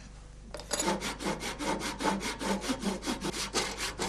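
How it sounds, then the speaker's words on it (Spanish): A luthier hand-saws wood to shape the baroque neck of a handmade violin, giving a close, rhythmic series of about a dozen rasping back-and-forth strokes at a steady pace. "Para rebajar la madera y dar la forma barroca al mango, este artesano utiliza diferentes sierras."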